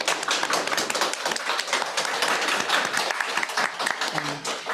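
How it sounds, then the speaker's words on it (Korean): Applause from an audience at a fair-trade talk event, thanking a panel that includes producers from Laos: dense, steady clapping that stays loud and close for the whole span, with no speech over it. "한번 모두 박수 한번"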